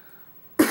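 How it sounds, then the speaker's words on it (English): A single sharp cough bursts out close and loud after a near-silent stretch of room tone, then lingers briefly at the end. "There's a cough in your ear"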